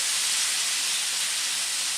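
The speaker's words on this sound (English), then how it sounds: "Just stir it around a little bit, get the oil mixed around." Rice frying in hot oil in a pan while being stirred, for coconut lime rice, gives a steady, even sizzling hiss that runs unbroken and fairly close, with no voices.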